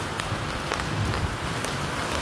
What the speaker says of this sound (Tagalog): Umuulan dito sa Marble, oh.